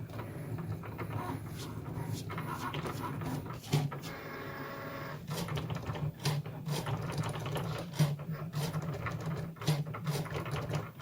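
A Cricut cutting machine works through leftover material with steady mechanical whirring and repeated short clicks and ratcheting bursts from its moving carriage, close and moderately loud, with no voices.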